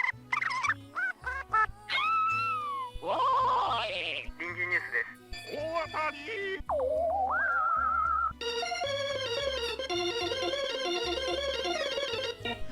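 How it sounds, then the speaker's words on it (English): Short, varied object sound effects from the Katamari Damacy video game pop up one after another, quirky squawks, chirps and melodic bleeps, each with its own little tune, ending in a busier musical jingle. "Even more objects have their own unique sounds for when they're rolled up too."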